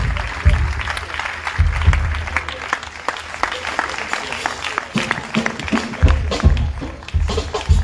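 A church congregation at a consecration service claps steadily and loudly together, with rhythmic hand claps and crowd voices acclaiming throughout.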